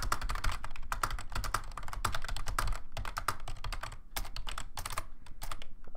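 Rapid typing on a computer keyboard during an online typing speed test: fast, irregular bursts of crisp key clicks with brief pauses, close and clear, with no talking.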